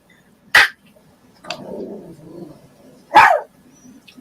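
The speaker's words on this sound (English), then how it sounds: "What are you barking at, you silly dog?" A pet dog gives two sharp, separate barks a few seconds apart indoors, with softer low rumbling sounds between them.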